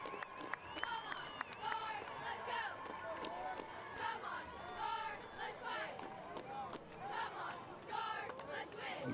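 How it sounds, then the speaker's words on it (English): A high school playoff football crowd cheers and shouts at a fairly distant stadium while cheerleaders try to fire them up. Scattered yells and whistles rise over a constant murmur, and a commentator talks over the noise. "got the guard cheerleaders trying to get this crowd fired up."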